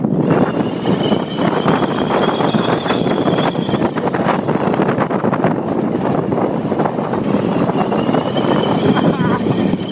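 Wind buffets a microphone during an off-road ride, a loud, steady, broadband roar and rumble that runs unbroken through the whole stretch.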